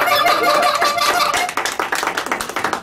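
Audience at a live radio show recorded at a historic hardware store in Nashville, breaking into lively applause with some cheering and whoops, first a dense wash, then thinning into scattered individual claps.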